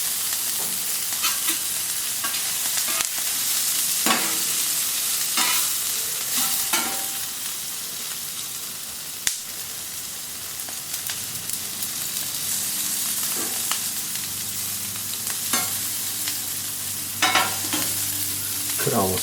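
Cudighi sausages sizzling on a Camp Chef FTG600 flat top grill in vegetable oil, a loud continuous fry with scattered pops and crackles throughout.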